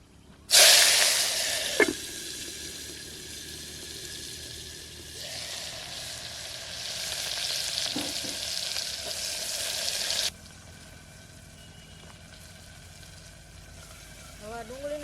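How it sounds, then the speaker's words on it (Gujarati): Sliced onions hit hot oil already holding mustard seeds and cumin, bursting into a loud sizzle that settles into steady frying with stirring scrapes, then drops to a quieter bubbling hiss near the end. "અને હવે આ ડુંગળી મળેલી છે ને એ નાખી દઈએ આપણે હવે ડુંગળીને"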